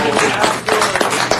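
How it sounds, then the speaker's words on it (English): Audience clapping at a city council meeting, a loud, dense run of hand claps from a nearby crowd, steady throughout with no voices over it. "give us another mercy applause"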